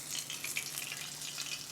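Pork wontons frying in hot oil, a close, steady crackling sizzle with bright popping bubbles and no voices.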